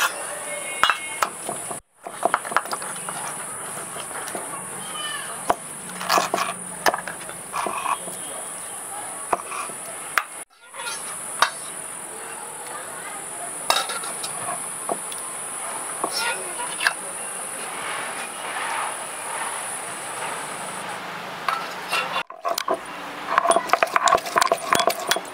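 Garlic being ground into paste for a papaya chicken curry: repeated rough scraping and grinding strokes with a few light clinks, continuing steadily and fairly close for most of the clip, broken by brief pauses.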